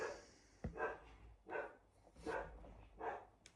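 An excited dog barking indoors as someone comes home: five sharp barks spaced about a second apart, fairly close, with a brief click near the start and no talking.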